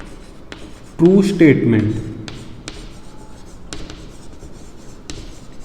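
A pen scratches briefly across paper while an equation is written by hand in a maths lesson, a short burst of strokes under someone speaking.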